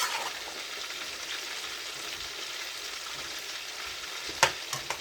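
Fried fish and eggplant stirred in a hot pan with oil: a continuous close sizzle throughout, ending with a few sharp clinks of the spoon against the pan.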